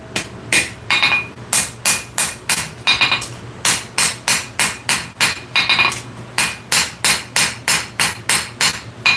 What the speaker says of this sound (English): A little bit of planishing.